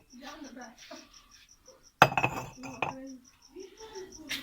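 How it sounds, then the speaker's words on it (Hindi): Colourful clay cups being washed clink against one another and other dishes, with a sharp knock partway through followed by a few lighter clinks, while someone talks in between. "ये प्याला भी मैंने अच्छे से, ये मिट्टी का प्याला है, इसको कलरफुल बनाया हुआ उन लोगों ने। मैंने इसको भी धो दिया।"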